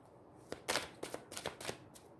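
A deck of angel blessing cards being shuffled by hand, giving a few quick, faint riffling bursts in a quiet room.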